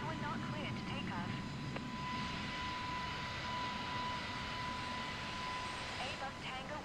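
Airbus airliner jet engines in the Microsoft Flight Simulator 2024 video game give a steady, broad roar with a constant whine, under occasional voice chatter.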